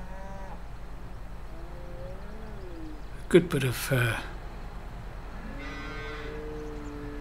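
Cattle in a Farming Simulator 22 barn with a concrete floor and straw bedding give several drawn-out, wavering moos, some low and some higher, over a steady hum, with a brief clatter partway through.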